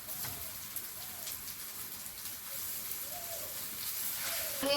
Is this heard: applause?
no